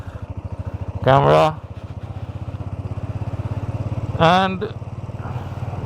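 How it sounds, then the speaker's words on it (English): Royal Enfield Bullet 350 motorcycle ridden on a road trip to Punjab: a steady, close, thumping single-cylinder beat runs throughout, with two brief bursts of talk over it. "now I'm riding the Bullet with my motovlog"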